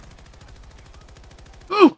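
Rapid automatic light machine gun fire in Battlefield 2042, a steady stream of quick shots, followed by a short louder burst near the end.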